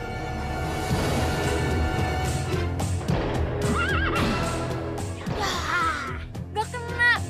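A horse whinnies repeatedly and close by, its loud neighs rising and falling over a steady din, with hoof clopping mixed in and no talking.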